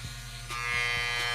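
A handheld electric hair trimmer buzzes steadily and close up while cutting a child's hair, with no voices over the continuous drone.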